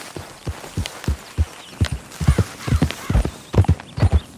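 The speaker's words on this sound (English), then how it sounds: "the Iron Grey Roan Ardennes is a pre-order horse" In a video game, an iron grey roan Ardennes horse, a heavy draft breed, walks with close, distinct hoof clops in a steady, uneven four-beat rhythm on firm ground, with no talking over it.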